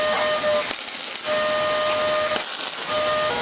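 Horseshoes being tack welded together, with a continuous loud crackling, buzzing arc that runs in several bursts separated by brief pauses.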